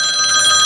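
A telephone bell rings in a continuous, bright electric trill for under a second, clear and close with no voices over it, as in a radio drama.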